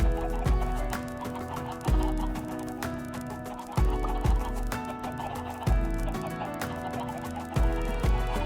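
Chickens in a farm video game cluck in repeated bursts, with soft thumping beats at regular intervals under the busy clucking, fairly close and steady throughout.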